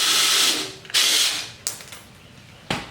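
A ratchet wrench backs out a 12 mm bolt from a Honda XR250R's Pro Circuit slip-on exhaust, two quick bursts of rapid clicking followed by sharper single clacks.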